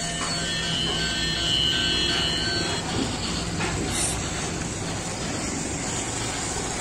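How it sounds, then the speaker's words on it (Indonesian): A continuous whirring, rattling rumble of a toy electric train (Argo Bromo) running along its track, steady and fairly loud, with no voices. "Kita jalankan juga kereta api Argo Bromo-nya teman-teman"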